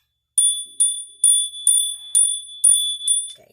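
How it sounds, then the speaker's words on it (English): A small bell is struck seven times in an even rhythm, each strike giving a bright, clear ring that decays quickly before the next, close and alone. "Let me hit the bell."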